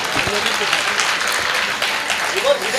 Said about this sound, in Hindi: आप फिर से ताली बजाएंगे।